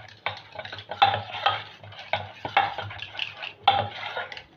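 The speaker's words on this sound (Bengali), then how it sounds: "দিয়ে ভালো করে আমি এটার সঙ্গে মিশিয়ে নেব।" A spoon stirs yellow food colouring into batter for boondi in a bowl, giving repeated scraping, clinking strokes against the sides in uneven bursts, close and clear with no talk.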